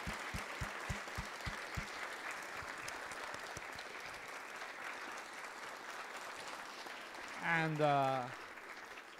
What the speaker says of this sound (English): So please, a big round of applause to them.